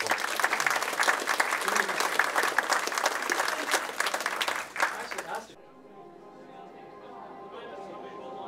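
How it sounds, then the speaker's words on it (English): An audience at an Apollo 11 50th anniversary speech event claps loudly and continuously for about five seconds, then the applause cuts off abruptly, leaving quiet room sound with faint voices. "Definitely give a minister, gentlemen, a round of applause."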